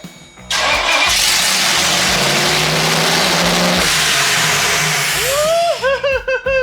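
A Mazda Miata with a swapped-in V8 cranks and catches, then roars at high revs, loud and close. Whooping voices break in near the end over the engine.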